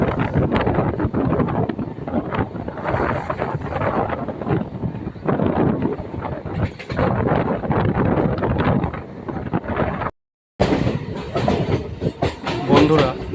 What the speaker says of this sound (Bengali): ট্রেন এখন নবগ্রাম স্টেশন ছেড়ে বেরিয়ে যাচ্ছে